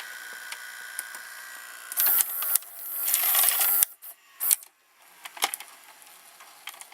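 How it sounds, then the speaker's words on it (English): Eject mechanism of a Hitachi VT-M191A VCR, partly taken apart: a series of close mechanical clicks, whirring gears and clattering plastic, with a motor whine swelling mid-way before sharp clunks and scattered ticks settle down. "Ah, now we pressed eject."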